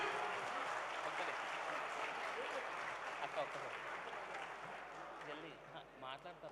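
Applause from an audience at a company event for Sai Properties & Projects, heard as sustained, fairly faint clapping from many hands that fades slightly toward the end.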